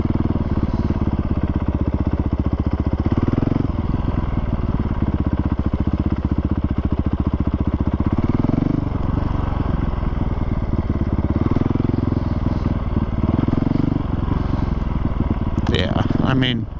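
A fuel-injected motorcycle rides slowly in first gear with on-off throttle, its close, steady engine drone swelling and dropping as the throttle opens and shuts.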